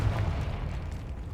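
A single short boom from the Confringo explosion spell in the video game Hogwarts Legacy, a heavy low burst that fades quickly, close and loud, with no talking.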